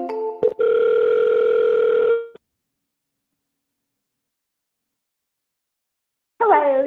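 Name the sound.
telephone dialing and ringing on a call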